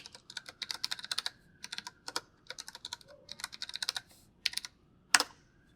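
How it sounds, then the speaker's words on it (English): Someone types a password command on a computer keyboard, producing quick, close clicking keystrokes in short irregular runs with brief gaps and a final firmer key press. "Now I'm going to type in the password command, which will then prompt you to enter in the new password twice."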